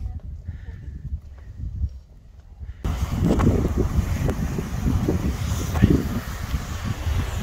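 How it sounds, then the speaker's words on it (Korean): Winter wind gusting across a golf course, rushing and buffeting hard against the microphone as it suddenly picks up partway through, loud and continuous after a quieter start. "아, 바람 또 부네. 어우, 갑자기 많이 불고 있네요."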